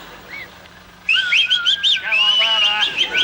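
Several men whistle together, shrill bird-like trills and sliding tones starting after a brief quieter lead-in, loud and close with overlapping melodic lines.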